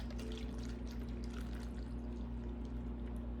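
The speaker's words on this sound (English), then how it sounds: "I got a 32 ounce of chicken stock, so I'm just gonna go ahead and just pour all of this in" Thirty-two ounces of chicken stock pours into a crockpot in a steady, faint, continuous liquid rush lasting a few seconds, with no talking over it.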